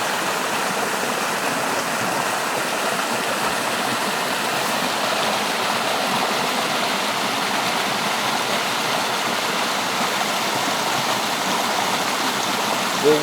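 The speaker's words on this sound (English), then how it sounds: "Little waterfall." A small outdoor waterfall, a steady broadband rush of falling water that stays constant and fairly close throughout, with no talking.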